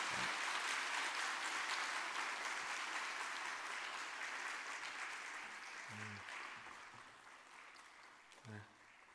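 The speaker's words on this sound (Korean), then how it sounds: "박수 한번 해주십시오." Sustained applause from a church congregation during a Sunday service, steady and dense for most of the clip, tapering slightly near the end with a few low thumps.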